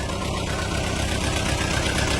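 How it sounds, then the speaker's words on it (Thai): Steady, rumbling diesel engine of a Mitsubishi MM55SR excavator idling close by, a dense even chug with no pauses or changes in pace. "ดี๋ยวให้ฟังเสียงเครื่องยนต์นะครับผม"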